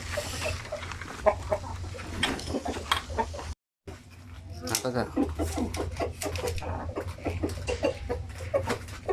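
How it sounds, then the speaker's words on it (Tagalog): Native chickens in a breeding pen cluck and call intermittently at close range, under someone talking for most of the stretch, with a short dropout near the middle. "meron pa tayong manok dito"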